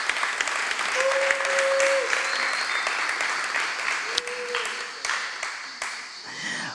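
Studio audience applauding an eliminated contestant on a French TV game show, steady dense clapping over several seconds with faint voices and a brief tone in the background.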